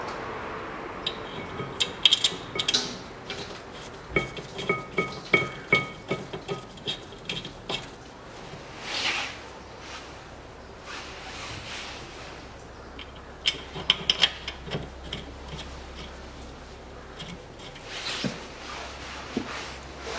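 Rear brake caliper bracket bolts tightened on a 2010 Chevrolet Epica: scattered metallic clicks and taps from tool work, in irregular bursts with short pauses between them, fairly close and quiet.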